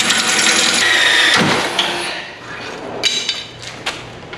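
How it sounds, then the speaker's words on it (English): Drill bit grinding through bolts on a Datsun 280ZX bumper, a loud close whine for about two seconds that winds down, followed by a few metallic clanks and knocks. "we do still need to drill out these three bolts right here"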